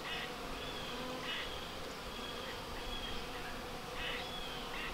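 Honey bees buzz steadily around an opened hive with little brood left, a dense continuous drone close by with a few louder passes of individual bees.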